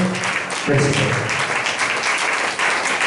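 A church congregation claps continuously and loudly to welcome a guest, with a voice faintly audible under the applause near the start.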